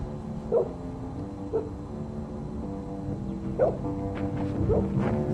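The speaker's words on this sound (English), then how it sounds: "all of a sudden a dog was barking" A dog barks roughly four times at irregular intervals, moderately close, over a steady background rumble, with no talking.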